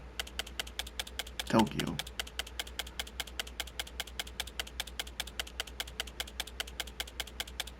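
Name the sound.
typewriter typing sound in the video game Tokyo Psychodemic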